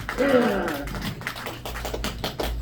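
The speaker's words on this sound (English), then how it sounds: "One more round of applause for me." A comedy club audience gives a scattered round of applause, moderately close claps thinning out over a couple of seconds, with a voice briefly heard at the start.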